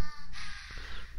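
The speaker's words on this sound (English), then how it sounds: "Hey, look, a bird." A crow caws once in an anime episode, a short, harsh call of moderate loudness with no other sound around it.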